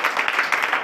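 A church congregation bursts into applause, a dense, steady wash of many hands clapping close by for under a second, with no voices rising above it.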